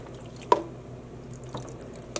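Dry acid dye liquid is added to yarn in an immersion dye pot, heard as a few faint, isolated drips and small splashes against a quiet background.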